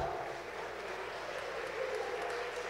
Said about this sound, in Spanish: Un fuerte aplauso para don Emeterio Toj